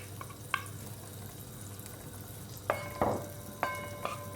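Knacki sausages fry gently in 25 g of melted butter in a pan over low heat, a soft quiet sizzle punctuated by a few clinks and clacks of the pan.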